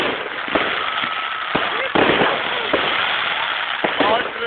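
Fireworks set off a rapid series of loud cracks and bangs, roughly one every second, mixed with whistles and crackle, as people talk and cry out excitedly throughout.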